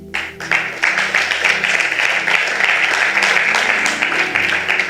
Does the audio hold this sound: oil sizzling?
no